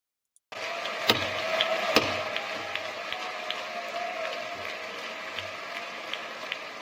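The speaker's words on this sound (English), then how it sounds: "See, they're all standing up and clapping." An audience rises and claps, producing a moderately distant, even patter of applause with a few sharper knocks early on, continuing steadily after a brief silent start.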